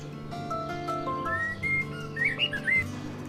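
A person whistles in imitation of a sparrow's call, producing short rising and falling chirpy notes over a steady musical backing. The notes grow busier and higher toward the end.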